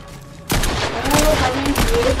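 A new silenced pistol firing in Fortnite, a video game: a burst of close, sharp shots begins abruptly after a short quiet lead-in, with dense overlapping gunfire continuing to the end.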